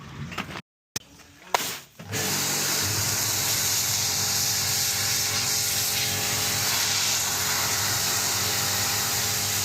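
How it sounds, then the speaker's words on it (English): After a couple of seconds of quiet handling noises, a steam cleaner blasts onto a DAF truck engine near the DPF, a loud, close, continuous hissing spray that holds steady to the end. "we'll try and get a steam cleaner in this now."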